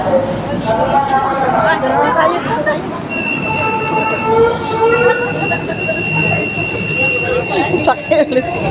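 An MRT metro train in Manila rumbles and screeches along the rails with a long metallic squeal, beneath loud, continuous chatter from nearby passengers on a crowded platform.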